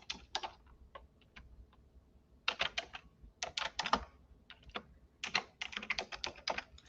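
A password typed on a computer keyboard: quick clusters of close, crisp key clicks in irregular bursts with short gaps, no talk.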